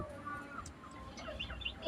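A hen gives a few soft, fairly faint clucks close by in a backyard coop, with quiet rustling and background noise and no clear speech.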